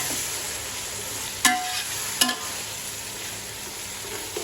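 Capsicum and cabbage stir-frying for Chinese biryani give a continuous bright sizzle, with two sharp metallic scrapes or clinks of a spatula on the pan partway through.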